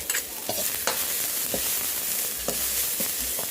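Loud continuous sizzling of curry paste frying with pork in a hot pan, with repeated scraping stirs from a utensil, close and busy, no talking.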